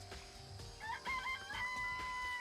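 Chickens in a coop in the video game Danganronpa, with a rooster crowing and hens clucking over a low humming background, moderately close and steady, with no talking.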